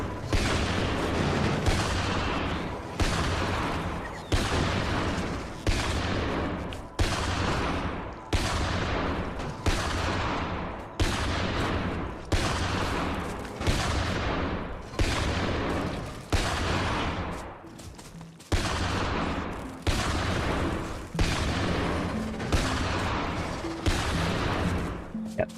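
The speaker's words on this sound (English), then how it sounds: "these sniper turrets in the back, love them" Sniper turrets in modded Factorio fire heavy, booming shots at a steady rhythm of roughly one every one to two seconds, each report loud and decaying, with no talk over it.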